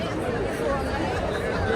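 Dense crowd chatter fills a beer festival ground at Oktoberfest in Germany on a busy Saturday evening, a steady, even wash of many overlapping voices with no single speaker standing out.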